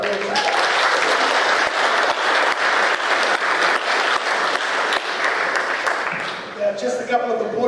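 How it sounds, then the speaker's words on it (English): Audience applause at a candidates' meeting for Eastern Porirua voters, steady dense clapping from a crowd that holds throughout, then thins and fades near the end. "Please give them a round of applause."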